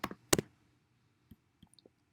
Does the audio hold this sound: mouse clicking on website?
yes